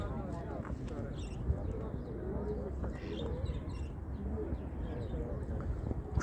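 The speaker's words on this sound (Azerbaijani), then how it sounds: "Bax, bir-birindən gözəl quşlar." Busy poultry and bird market in Ganja, with pigeons or doves cooing and small birds chirping faintly through a constant crowd murmur and nearby talk.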